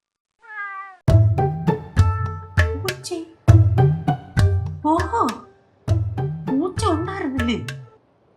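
A copper-coloured cat meows repeatedly: about seven loud, drawn-out calls with bending pitch, close and clear, separated by short pauses.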